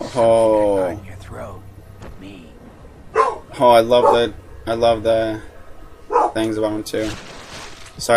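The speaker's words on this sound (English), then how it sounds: "that's my dog out there barking" A dog barks outside at the neighbours next door, heard as several yapping bursts at moderate distance, mixed in with someone talking nearby.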